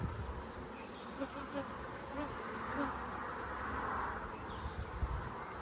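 Honey bees swarm around an open hive during an inspection, a dense steady buzz with individual bees droning close past, continuous and fairly loud.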